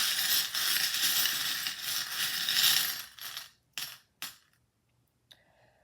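Small metal charms are rattled and jostled by hand in a dense, busy clinking, then a few separate sharp clicks and taps follow before the sound drops into near silence.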